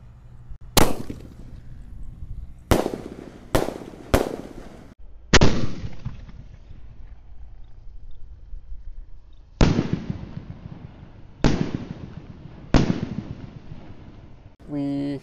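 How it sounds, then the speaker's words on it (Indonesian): Triple boom mercon firecrackers explode outdoors during Ramadan festivities in a series of sharp, loud blasts, two and three in quick succession with pauses between, each followed by a brief crackling tail. "Siap meluncur triple boom."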